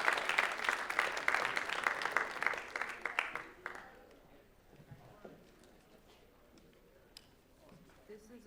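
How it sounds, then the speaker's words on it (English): Audience clapping at a student writers' week reading, a loud burst of applause that fades after a few seconds into a quiet room. "give Fish Medi a round of applause"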